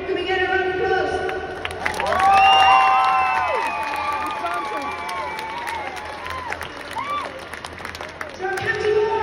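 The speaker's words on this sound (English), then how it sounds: "Can we get a round of applause?" A crowd at a Galway All-Ireland champions' celebration cheers and applauds, swelling to a loud peak with rising shouts and whistles, then tapering into scattered clapping and voices.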